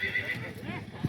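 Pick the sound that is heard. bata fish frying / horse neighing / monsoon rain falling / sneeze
horse neighing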